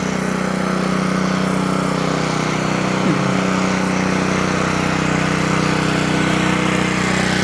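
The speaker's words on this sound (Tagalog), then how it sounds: "Maingay nga lang yung ano, tambutso." A vehicle engine's exhaust roars loudly and steadily at an outdoor site where a gate is being built, a constant droning hum that continues unbroken with no voices.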